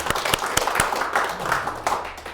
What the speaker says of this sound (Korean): 우리 다 같이 감사의 박수 한번 드리고 마치겠습니다